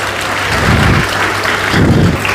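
Loud applause from a seated audience welcoming Padma Shri Bhai Gurvinder Singh at an ashram event in Sirsa, a dense, continuous clapping with a low hum beneath.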